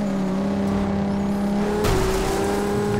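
A 1500 HP Toyota Supra MK4 in Forza Horizon 2 drones at steady revs, then its engine note shifts sharply upward as it accelerates, loud and close throughout.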